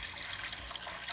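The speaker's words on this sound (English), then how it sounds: "we'll add some clean water here." Clean dechlorinated water pours into a terrarium bowl, a short soft splashing trickle, faint and steady with no voices.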